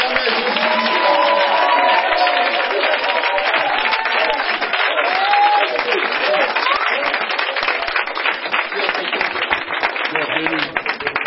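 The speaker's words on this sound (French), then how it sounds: "Est-ce qu'on peut acclamer Jésus?" A congregation at a Saturday prayer service bursts into sustained applause and cheering, a dense and continuous clapping crowd with voices rising over it throughout.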